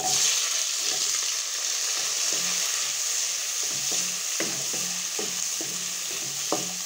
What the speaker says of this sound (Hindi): दो मिनट के लिए इसे करेंगे फ्राई